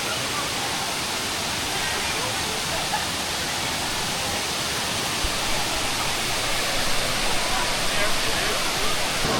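A steady, full roar of Rutledge Falls fills the scene evenly from start to finish, loud and close, with no pauses.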